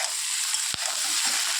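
Mushrooms fry in a pan with a steady bright sizzle, broken by a single sharp scrape of stirring partway through.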